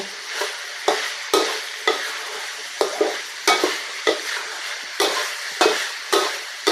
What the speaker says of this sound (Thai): สตอลงไปผัดเลยเนาะ นี่ผัดแบบนี้เลย